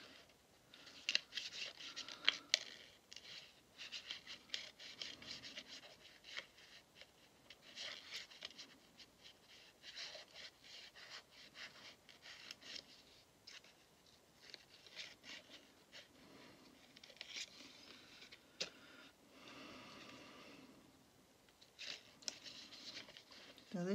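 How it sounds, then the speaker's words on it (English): Paper cut by hand with scissors for journal pockets and tags, sounding as repeated small snips and rustling as the paper is wiggled against the blades, close and quiet, with faint breathing. "just by moving your paper onto your scissors and just wiggle it about like this."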